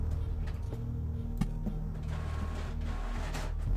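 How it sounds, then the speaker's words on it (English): A printer runs steadily with soft mechanical whirring and scattered ticks and clicks, a low continuous hum behind it and no voices. "I shouted so loud that my printer's printing."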